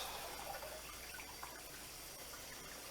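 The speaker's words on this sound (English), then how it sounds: "And we've got a nice rolling boil." A pot of water at a rolling boil while tomatoes are being blanched, giving a steady, dense bubbling and churning wash that stays fairly even and close for the whole stretch, with no talking.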